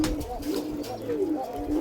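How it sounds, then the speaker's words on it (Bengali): Hand-tame pet pigeons at home coo in soft, repeated low warbling calls close by, several rolling coos overlapping against faint background sounds. "আমার কবুতরগুলো সবাইরা আমার হাতে এসে খায়।"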